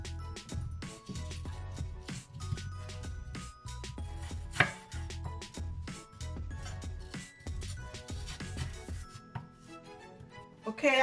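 A knife cuts apples into cubes on a board for caramelized apples, making steady, close, rhythmic chops that repeat quickly and evenly without talk.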